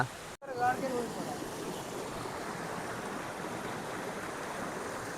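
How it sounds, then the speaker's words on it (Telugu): Continuous rushing of a flowing stream, steady and moderately loud throughout, after a brief dropout at the start. "నీళ్ళు ఇక్కడేరా."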